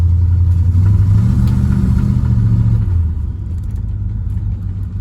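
A 1967 Ford Galaxie with a 427 engine idles with a deep, loud rumble while being backed in close to a wall, and the low engine note eases off partway through.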